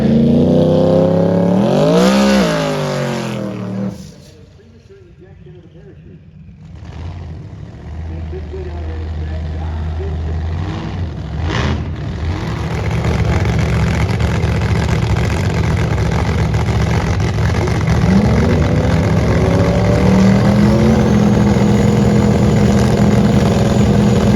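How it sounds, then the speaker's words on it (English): A muscle car roars down a drag racing strip, its engine revving with a rising and falling pitch, then dropping briefly before a loud, sustained roar returns and holds to the end. "Cars going down the racetrack."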